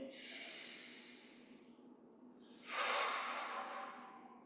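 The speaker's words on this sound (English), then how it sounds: "Just rest for a few breaths, natural breathing." Slow, relaxed breathing at rest during a Yi Jin Jing qigong session, two long airy breaths close to the mic, a softer one fading out and then a louder one swelling up, with no talking.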